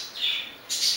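Two short, loud, close bird calls, a harsh squawk followed by a brighter chirp, heard without talking over them.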